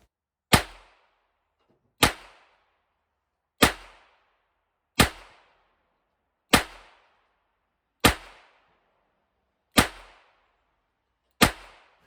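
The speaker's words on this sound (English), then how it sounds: "This was shooting the 617 in double action." A Smith & Wesson 617 revolver fired in double action at an outdoor range: eight sharp, loud reports spaced roughly a second and a half apart, each with a short fading tail, no voices.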